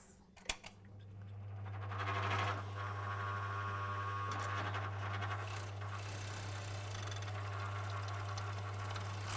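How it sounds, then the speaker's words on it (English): Overlock sewing machine stitching down the edge of fabric trousers, a steady fast mechanical hum and rattle running continuously after a few clicks at the start, close and fairly quiet. "So we're going to overlock this."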